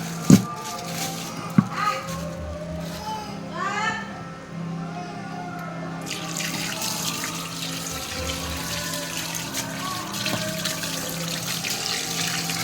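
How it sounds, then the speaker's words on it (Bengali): Raw meat rinsed under a running kitchen tap, water splashing and gushing steadily into a sink with a few clattering knocks, while people talk intermittently nearby. "সবার আগে মাংসটাকে ধুয়ে নিই।"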